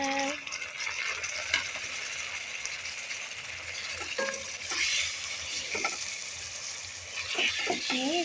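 Chicken pieces with chili and garlic sizzling in a pan for majbus, a continuous hissing fry with occasional stirring scrapes and clatter, moderately loud and close, no voices.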